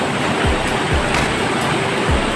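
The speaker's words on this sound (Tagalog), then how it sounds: "Ayan na yata ang falls na sinasabi nila" A waterfall at 13 Falls in DRT pours with a steady, loud rushing hiss of falling water, with a few low thuds underneath and no one speaking.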